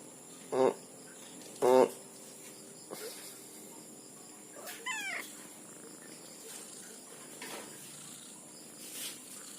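Pet cats meowing in the morning, two clear close meows early on followed by fainter chirps and soft cries, over a quiet background with faint insect chirring.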